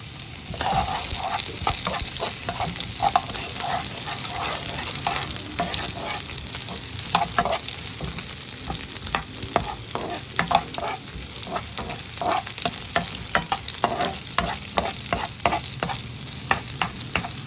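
Sliced onions frying in a pan alongside garlic while being stirred for a bitter gourd dish, a loud continuous sizzle broken by frequent sharp scrapes and clicks of the utensil against the pan throughout.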